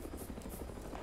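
A hovering Mi-8 helicopter in the ArmA 3 video game, a steady loud rotor drone with pulsing blade chop filling the whole moment, no talk.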